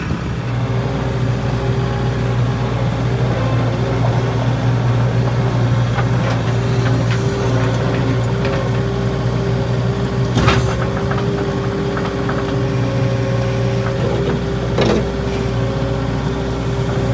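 A skid steer loader's engine runs steadily just after being started, with a constant low rumble and a few brief mechanical clanks and bursts over the drone, heard alone without talk.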